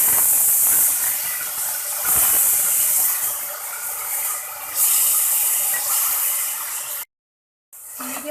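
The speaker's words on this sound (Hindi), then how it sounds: "अब इसके अंदर हम ऑनियंस डालेंगे।" Chopped onions fry in about eight tablespoons of hot oil in a pan on medium flame while mutton kofta curry is made at home, giving a steady loud hiss and sizzle that runs without a break, then cuts out briefly near the end before resuming.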